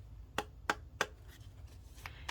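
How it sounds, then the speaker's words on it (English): Three sharp knuckle knocks on a tarot card deck, evenly spaced and close, followed by faint handling of the cards in a quiet room. "you're going to do 3 knocks"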